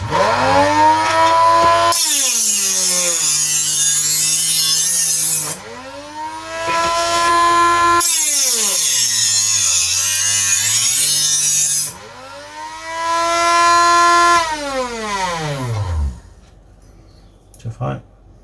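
A Von Chef electric knife sharpener whirs loudly as a knife is drawn through it, its motor whine rising and falling in pitch across several long passes, with the machine shifting on its suction pads.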